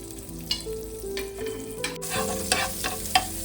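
A spoonful of butter sizzles in a hot frying pan, a light crackle with short scraping bursts from a spatula over a steady tonal hum in the background.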